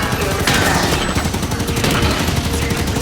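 Gunfire in the Halo 5: Guardians video game, rapid bursts of automatic shots rattling continuously over a loud, cluttered battle background.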